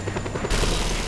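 A military helicopter fires rapid bursts of gunfire in the video game Just Cause 2, a quick rattling volley that jumps to a louder, denser roar halfway through.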